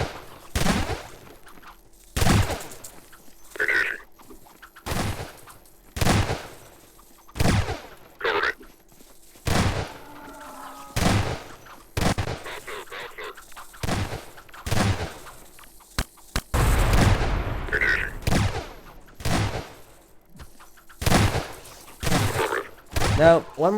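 Assault units in the video game Lambda Wars fire in repeated short bursts, loud and evenly spaced, with brief pauses between them.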